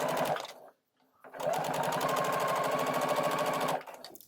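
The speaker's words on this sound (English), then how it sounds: "we can sew right down the edge of the poppers" A sewing machine stitches slowly along the edge of a faux suede top beside snap poppers: a short whirring burst, a brief pause, then a steadier run of rapid needle chatter lasting a few seconds.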